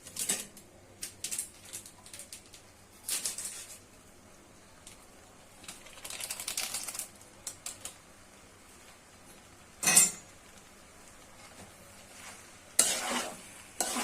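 A utensil stirs homemade pasta with spices in a pan, giving soft intermittent scraping strokes with light sizzling between them and a few sharper clacks against the metal.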